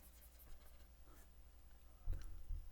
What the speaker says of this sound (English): so I should erase it